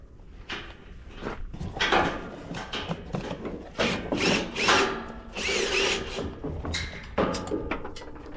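A power drill backs screws out of an almond sweeper being prepped for almond season, whirring in repeated loud bursts with brief pauses and rubbing, clanking handling noises between runs.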